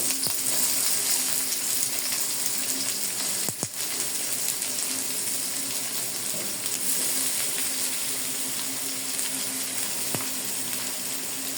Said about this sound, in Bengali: তেলটা গরম হয়ে গিয়েছে এখন আমি দিয়ে দেবো পেঁয়াজ কুচি আর মরিচ পালি